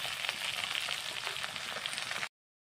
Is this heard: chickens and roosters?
no